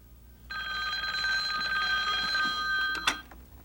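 A telephone rings once with a bright, sustained electronic trill, clear and close in a quiet room, ending with a click as it is picked up, in a 1995 Korean television drama reconstructing a hospital case.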